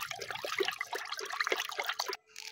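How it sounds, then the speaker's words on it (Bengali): Dye being poured into a basin of water, a steady trickling, splashing pour that runs close and fairly loud for about two seconds before cutting off abruptly into near silence. "তাই আরও 1 প্যাকেট রং ঢেলে দিলাম।"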